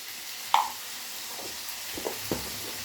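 Vegetables sautéing in a pan, a soft low sizzle broken by a few sharp scrapes and knocks of stirring, close and fairly quiet with no voices.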